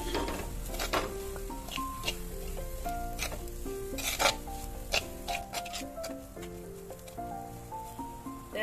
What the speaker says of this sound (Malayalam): തേങ്ങ നല്ലോണം ചൂടാക്കി എടുക്കണം.